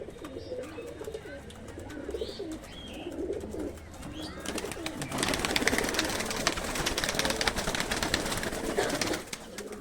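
High-flying pigeons, including a Teddy male, cooing and rustling close by, with soft murmuring coos at first and then a denser burst of wing flutter and scuffling activity.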